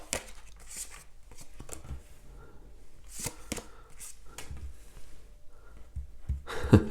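Tarot cards shuffled by hand, a run of close, crisp riffling and slapping bursts in uneven rhythm, with a soft breath or voice near the end.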